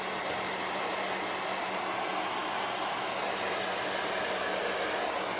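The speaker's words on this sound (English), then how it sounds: "I'm just gonna dry it with my hair dryer." A hair dryer runs continuously while drying a homemade Easter bunny craft, a steady loud rushing whoosh with a faint motor whine, unchanging throughout.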